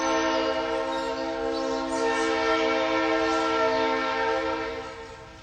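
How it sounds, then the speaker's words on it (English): A passing train sounds a long, steady horn that holds for several seconds over rumbling rail noise, loud and close, fading out at the end. "the train's going, so my apologies"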